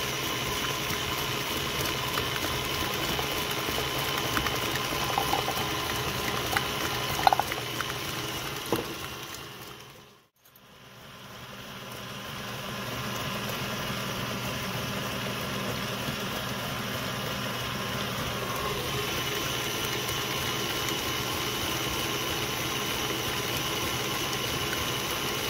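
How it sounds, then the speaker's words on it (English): A stand mixer beats eggs and sugar for vanilla cupcake batter, giving a steady, close motor whir that stays even throughout, with a brief dip partway through and no talking. "While beating the eggs and sugar, gradually pour in the melted butter and vanilla into the standing mixer bowl."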